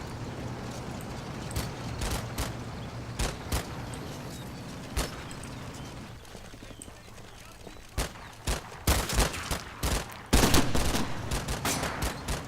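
Covering fire from an infantry platoon in the Combat Mission Fortress Italy wargame: sporadic distant rifle and machine-gun shots crack over a steady low battlefield rumble, growing more frequent toward the end.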